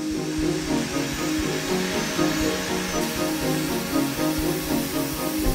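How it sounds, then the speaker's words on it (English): Steady, loud mechanical whine of a five-axis milling machine drill shaping a Range Rover Velar car model, running continuously with a slight rhythmic pulsing, no voices. "The drill bit follows a pre-programmed route, shaping the car with utmost precision."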